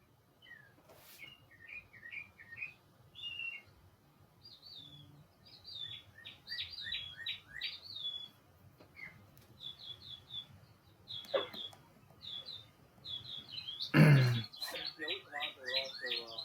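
Birds chirp outdoors on a warming spring day in New England, with bursts of high, quick tweets repeating throughout at a moderate distance, and occasional faint talk and a brief sharp noise in the background.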